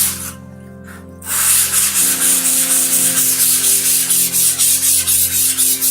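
Sandpaper rubbed evenly across the foam wing panels of a Tuffbirds Tuffstar trainer model airplane, a loud, close, rhythmic back-and-forth scratch after a brief quieter start.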